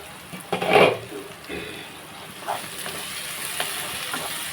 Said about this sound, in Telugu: మామిడికాయ కూడా శుభ్రంగా మగ్గిన తర్వాత మనం ఉప్పు కారాలు వేసుకుందామండి ఒకసారి మనం కలుపుకుందామండి